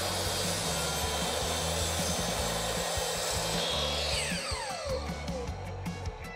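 A power saw whines continuously as it cuts through wood, loud and close, with the pitch dipping and shifting as the blade bites.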